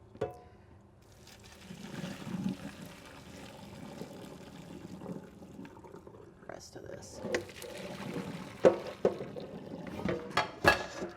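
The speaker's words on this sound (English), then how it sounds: "So see, I'm dumping the water into the strainer." Water splashes and trickles into a strainer under quiet talk, with clinks of metal and dishes growing sharper toward the end.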